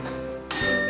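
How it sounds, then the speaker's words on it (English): A single bright bell ring struck during a couple's game show challenge at home, a sharp close ding that sustains and rings on after a low background tone. "You have to ring the bell."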